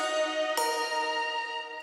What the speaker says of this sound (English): kind of just like a belly mallet serum patch.